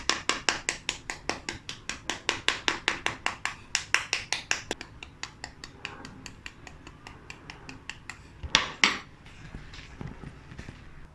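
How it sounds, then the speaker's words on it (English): Boiled eggs in their shells being tapped to make many cracks over the surface for Chinese tea eggs, a rapid run of sharp, close clicks that later turns sparser and quieter, with a couple of louder knocks near the end. "I'll leave the other half of the eggs with the shell on and create some multiple cracks on the surface."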